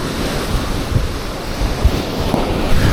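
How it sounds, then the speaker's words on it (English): Strong wind from Storm Ashley roars and buffets the microphone over the rumble of surf at a beach, a constant, loud, blustery rush with no voices. "Oh man, that wind is ripping."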